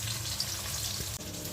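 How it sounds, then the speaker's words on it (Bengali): Fish frying in hot oil makes a continuous hissing sizzle up close, with a small clink near the end. "একদিকে মাছ ভাজা হচ্ছে"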